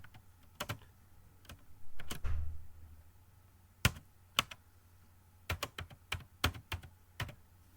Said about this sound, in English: To activate this, we will type